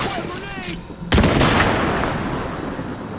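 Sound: gunfire in the video game The Division

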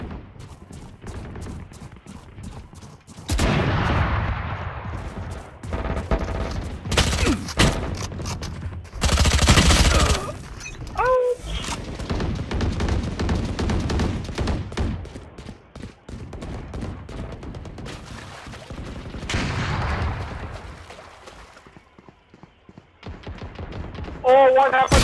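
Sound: gunfire in the video game Valorant

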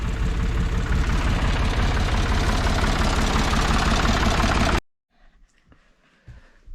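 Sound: vehicle engine while driving to the new place

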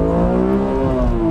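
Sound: BMW Z4M Coupe engine revving

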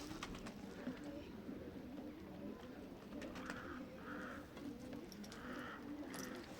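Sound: bird calls, pigeon cooing

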